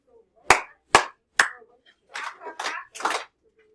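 In a middle school math classroom, three sharp, spaced single claps ring out close by, followed by a looser cluster of softer, smeared claps from several students, with quiet gaps between.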